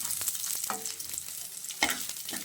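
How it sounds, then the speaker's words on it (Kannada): Dried red chillies fry in hot oil in a pan, a soft steady sizzle with a few sharper stirring clinks and scrapes breaking through, close and moderately loud with no voices. "ನೋಡಿ, ಎಣ್ಣೆಲಿ ಬಾಡಿಸ್ತಿದ್ದೀನಿ. ಚೆನ್ನಾಗಿ ಎಣ್ಣೆಲಿ ಫ್ರೈ ಆಗಬೇಕು ಒಣಗಿದ ಮೆಣಸಿನ್ಕಾಯಿ"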